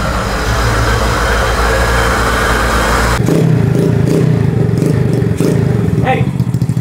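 A Chevrolet LT4/LT1 V8 idling after a cold start at low RPM, a loud, close, steady low rumble that shifts partway through, with someone speaking over it.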